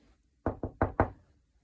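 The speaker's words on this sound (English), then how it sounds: "if there was a knock at the door" Four sharp knocks on a door in quick succession, the first two paired and the last two slightly heavier, close and clear in a quiet room.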